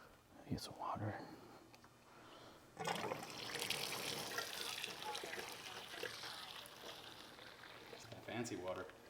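Alkalized water being poured from a tap or container, a soft rushing flow that starts partway through and carries on, faint and close, with quiet speech at the start and end.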